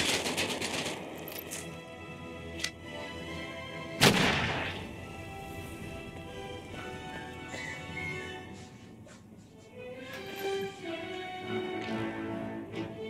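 Grenade blasts in the VR shooter Medal of Honor: Above and Beyond multiplayer, with a sharp close explosion and several smaller bangs among steady gunfire and game noise, over a dense busy mix.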